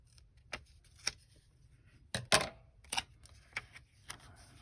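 Scissors snip through pink paper for a journal page, giving a quiet, irregular series of crisp cuts and clicks with short pauses between them and no talking.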